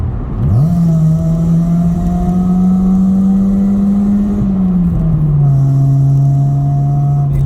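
A 2004 Honda Civic EP2 engine pulls hard and loud from inside the cabin as the car accelerates around a bend, pitch rising quickly then holding steady before a brief dip and continuing strong.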